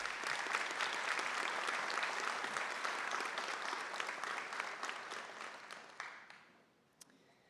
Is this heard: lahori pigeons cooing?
no